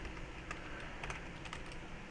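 Fast typing on a new computer keyboard: a quick run of close, crisp key clicks at an uneven rhythm, with a few sharper taps standing out and no one talking.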